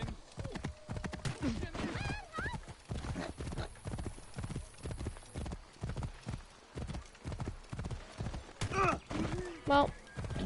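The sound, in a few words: horse hooves and neighing in Assassin's Creed video game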